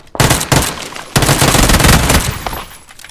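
Rapid automatic gunfire in the PUBG battle royale game, loud and close, with dense bursts of shots running almost continuously across the clip after a brief opening pause.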